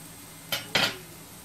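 A semolina galette with seeds flipped in a pan, two quick close scraping knocks of a utensil against the pan over a faint background hiss.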